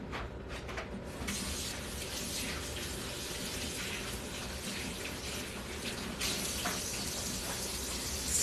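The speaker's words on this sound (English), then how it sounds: "Let me wash my hands." A kitchen tap runs steadily as hands are washed under it, a continuous broadband rush of water with small splashing shifts, fairly close and alone without talk.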